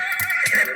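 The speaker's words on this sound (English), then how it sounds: "Horses are hostile." A horse in the Hexxit Minecraft modpack video game lets out a short, loud, close whinny, heard alone without talk.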